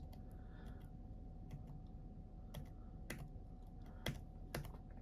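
Keys pressed on an old MacBook keyboard while playing 2048, scattered sharp clicks in small bursts with gaps between, close and fairly quiet over a low background hiss.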